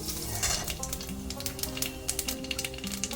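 Black cumin (nigella) seeds go into hot oil in a frying pan while cooking koraishutir kochuri filling, giving a steady close sizzle with a few faint stirring clicks and no talk.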